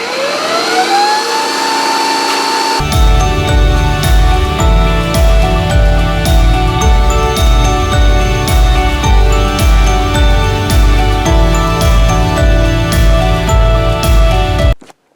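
An old motor runs steadily at roughly 4,100 RPM: a rising whine for the first few seconds, then a loud, constant, droning roar that holds evenly until it cuts off abruptly near the end.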